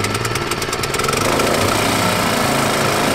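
A Honda lawn mower engine fires on one pull with the choke on, settling into a loud, continuous chugging run close by.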